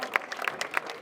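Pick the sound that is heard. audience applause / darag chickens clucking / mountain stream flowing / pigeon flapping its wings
audience applause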